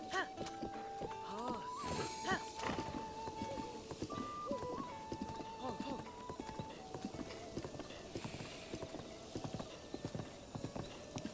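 Steady clip-clopping horse hoofbeats trot along continuously in The Legend of Zelda: Breath of the Wild, close by, while a long sustained tone plays over them.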